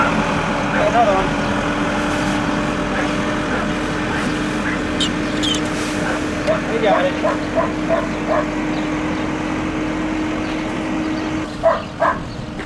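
A young brindle puppy, nine months old, barks while hunting rats outdoors near a driveway, giving scattered short yips and barks over a steady background hum, some close and sharp, others fainter.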